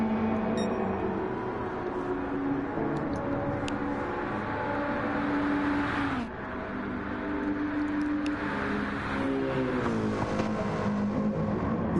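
Race cars on track in a PS4 racing game roar steadily, their engine pitch rising and falling through gear changes, with a brief dip near the middle before the loud drone resumes.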